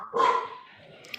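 A single sharp dog bark up close, followed by a short tail of softer yelping, then a faint high click near the end.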